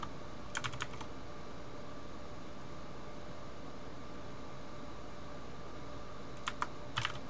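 Short bursts of computer keyboard typing at a desk, a quick cluster near the start and another near the end, over a steady hum of room or fan noise with no talking.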